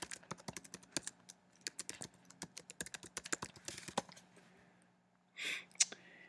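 Rapid typing on a computer keyboard while entering an email address to log in, a close run of crisp key clicks for about five seconds, then a brief louder burst and a single sharp click.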